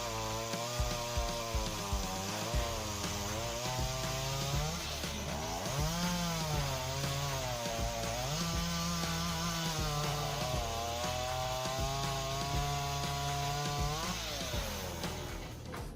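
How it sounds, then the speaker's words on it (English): A 341 chainsaw cuts through huge blocks of wood. The engine wails loudly and continuously, its pitch rising and falling repeatedly as the chain bogs into the wood and revs back up, with no voices. "341 chainsaw with powerful power and precise engineering. It cuts huge blocks of wood"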